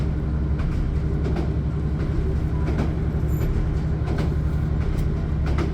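A train rolls steadily along the rails of the Cumbrian Coast line with a continuous low rumble and faint rhythmic clicks of the wheels, no talking.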